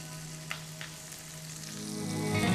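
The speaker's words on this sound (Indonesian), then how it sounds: "Terus kita tumis bawang merah, bawang putih, cabai, semuanya." Shallots, garlic and chili sizzle in leftover frying oil, a soft steady frying hiss with a couple of light stirring clicks, growing louder toward the end.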